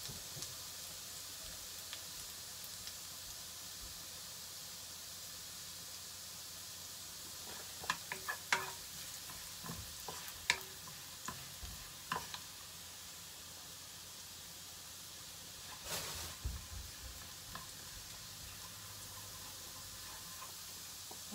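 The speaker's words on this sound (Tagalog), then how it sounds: "Mag-start na tayo magisa." Aromatics sauté in a pan for palabok, a quiet continuous sizzle with scattered soft clinks and scrapes of stirring in the middle stretch, all fairly faint and without talk.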